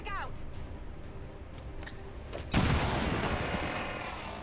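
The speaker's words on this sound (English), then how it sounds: "Can you check a grenade? Oh, okay, you can. Frag out." A frag grenade explosion in the video game XCOM 2 erupts midway as a loud, broad blast after a stretch of quieter game sounds and talk, its roar lingering and slowly fading.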